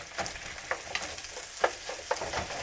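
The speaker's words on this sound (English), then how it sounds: "As we add in the rice, we keep turning" Rice stir-fried in a hot pan with fried chicken nearby, a soft continuous sizzle broken by light scraping strokes and turning sounds at an irregular rhythm.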